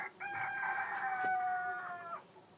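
A rooster crows once in a long, drawn-out call lasting about two seconds, clear and fairly close, with chickens on a farm around it during an evening round of the yard.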